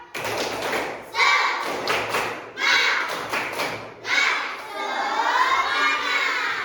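Schoolchildren in a fifth-grade class perform a rhythmic clap-and-chant routine, with bursts of loud unison clapping and thumping broken by shouted words, the voices of the group chanting over the beats.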